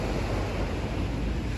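Morning sea surf rolls in as a steady, loud wash of breaking waves, with wind buffeting the microphone throughout and no talk.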